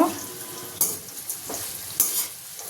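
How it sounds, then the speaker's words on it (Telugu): Sliced bitter gourd frying in an oil-filled pan, sizzling steadily up close, with a few sharp stirring scrapes cutting through the hiss. "మంచిగా ఇలా ఫ్రై చేసుకుంటే చాలా బాగుంటుంది నేను ఫ్రై చేస్తాను"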